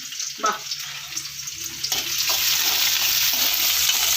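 Onion, garlic and ginger being sautéed in a pan, with a few clinks and stirring scrapes at first, then a steady sizzle that builds louder and holds continuously near the end.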